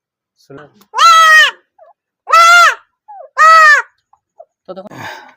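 A goat on a farm, recently recovered from a dystocia in which its unborn kid died, bleats three times in loud, close, wavering cries about a second apart, with faint rustles and handling sounds between them.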